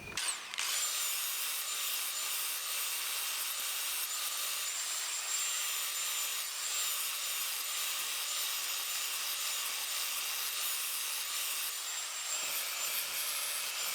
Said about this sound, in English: I just sharpen it while it's on the deck here, using one of these flapper wheels